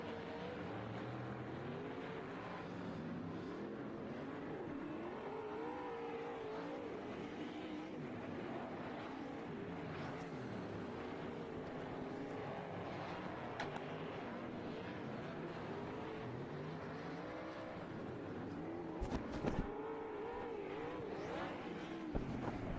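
Sportsman and limited late model race cars on the River City Speedway track, a continuous droning engine roar that rises and falls as the cars circle, steady and loud throughout with no break.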